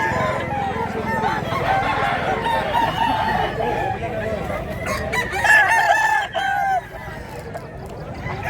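A large rooster, one of a group of old fighting cocks, crows repeatedly with drawn-out calls, set against clucking fowl and steady farmyard noise; no one speaks.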